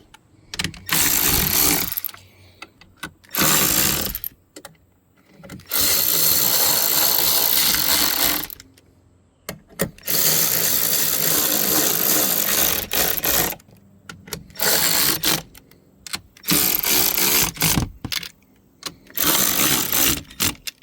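A power tool tightens the bolts on new Boostauto tow mirrors, running in loud bursts a few seconds long and separated by short pauses, with a ratcheting mechanical whir and no talk.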